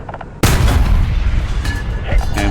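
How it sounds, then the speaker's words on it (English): A long-range cannon shot from a South African military vehicle in the War Thunder video game, a sudden loud boom after a brief quiet lead-in, followed by a rolling, reverberant tail with faint metallic clinks near the end. "Let's try a really far away shot."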